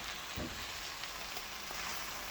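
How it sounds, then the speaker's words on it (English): Frozen broccoli, cauliflower, carrots and zucchini sauté in a skillet, a steady close crackling sizzle with a hissy, rain-like texture and a brief thump early on. "So far, it's still sauteing"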